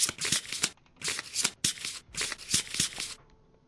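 A deck of cards shuffled on a table during a Kingdom Death board game session, several quick riffling bursts in a row, close and crisp with short pauses between.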